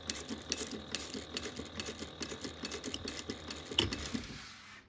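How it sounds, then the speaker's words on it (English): A sewing machine stitches along a fabric edge in rapid, evenly spaced mechanical bursts, fairly quiet and close, running throughout with a short pause near the end. "We're going to sew just past that. And then we're going to turn and then sew this edge together."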